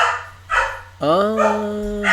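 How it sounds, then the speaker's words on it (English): A dog barks and then lets out a long, drawn-out howling yelp, fairly close and loud, with a person talking over and around it. "don't mind my dogs in the back"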